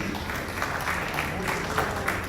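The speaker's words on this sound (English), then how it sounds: "let us express our heartfelt appreciation with a big round of applause for our esteemed guest" An audience applauding an esteemed guest at a ceremony, steady sustained clapping from a crowd, even in level for the whole short stretch.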